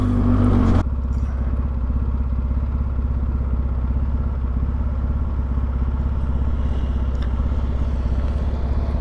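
A 2022 Polaris Sportsman 570 ATV drives in four-wheel drive low, its engine a steady, loud, close mid-pitched drone with slight clatter, after a brief louder burst at the start.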